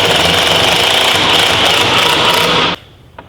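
A power tool runs steadily for about three seconds while driving screws into a glued wooden wall shelf top, a loud, dense buzzing whir that stops abruptly, leaving faint room noise.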